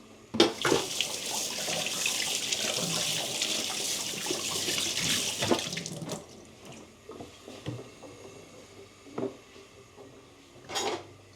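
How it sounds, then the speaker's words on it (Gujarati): Tap water runs steadily over tomatoes being washed in a kitchen sink, a continuous splashing rush for about six seconds, then stopping and giving way to a few scattered clinks and light handling knocks. "ગ્રેવી બનાવવા માટે ટમાટરને ધોઈ લઈએ"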